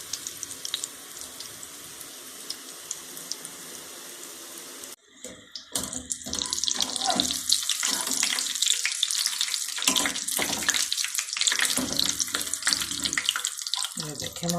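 Potato balls drop into hot oil, and a quiet background gives way to loud, dense crackling and sizzling frying that continues steadily up close.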